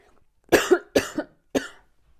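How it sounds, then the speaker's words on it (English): Three sharp coughs close to the listener, the first two doubled, with short pauses between them and quiet all around. "excuse me, I'm going to cough"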